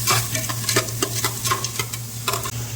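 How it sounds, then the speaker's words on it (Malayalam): Onions go into hot oil with whole spices such as pepper, coriander and cloves for Arabian mutton mandi, giving a close, loud, continuous sizzle with repeated scraping stirs of a spoon in the pan. "ആ സ്പൈസൊക്കെ ഒന്ന് മൂത്ത് വരുമ്പോൾ കുറച്ച് ഉള്ളി കൊടുക്കുക"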